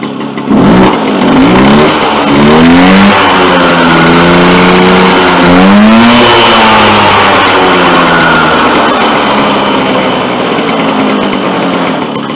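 A Motobécane AV89 moped engine runs loudly and close by after a restart, revving up and down in a buzzy, uneven drone that continues throughout.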